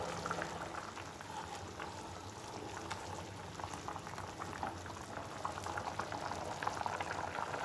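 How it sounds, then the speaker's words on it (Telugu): Curry bubbling as it simmers and thickens in a pot, a continuous dense bubbling and popping heard close up with no talking. "ఇలా మంచిగా మరగనివ్వాలి. కర్రీ చిక్కగా అయ్యేంత వరకు మధ్యలో కలుపుతూ చిక్కగా అవనిద్దాం దీన్ని."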